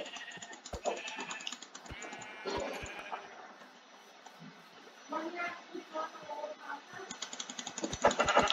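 Sheep bleating in the Minecraft video game, several short bleats mixed with clicking and tapping game sounds, a voice murmuring faintly in the background.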